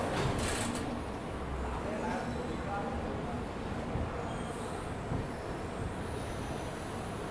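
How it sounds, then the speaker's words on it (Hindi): A daily express train pulls into a regular station halt in Madhya Pradesh, a steady rumbling rolling noise with faint squeals, heard close from on board with a voice talking over it. "लो भाई फाइनली डेली ट्रेन अपने रेगुलर हॉल्ट पे आते हुए"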